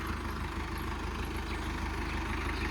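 A tractor engine idles with a steady low rhythmic throb, continuous and moderately close, with no voices over it.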